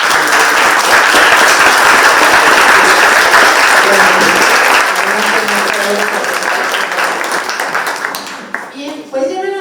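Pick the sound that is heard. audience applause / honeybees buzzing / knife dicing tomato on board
audience applause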